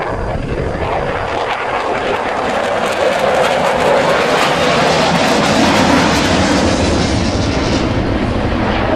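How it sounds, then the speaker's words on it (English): Saab JAS 39C Gripen jet of the Hungarian Air Force in a flying display at RIAT 2013, a loud continuous roaring engine rumble that swells steadily as it passes overhead. "The Gripen now positions for a oblique loop."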